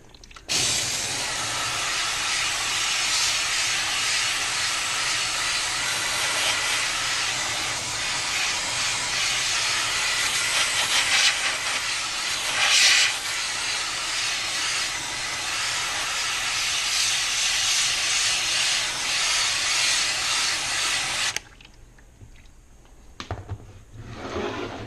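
Loud, steady hiss of hot steam played onto the ice-covered evaporator pan of a Fhiaba refrigerator during defrosting, continuous and close for about twenty seconds before cutting off abruptly into a quieter room.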